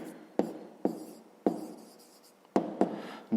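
Pen writing on paper during a fifth-grade maths exercise, heard as a few sharp strokes and taps spaced irregularly, close and quiet with no voices.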